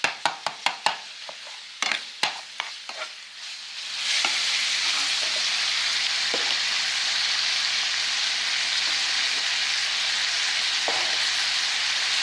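Chorizo in a pan: a few sharp knocks and scrapes of a spoon stirring at first, then a steady close sizzle of frying meat with occasional light clinks, no talking.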